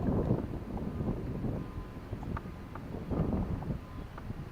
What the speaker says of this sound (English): Wind done picked up a little bit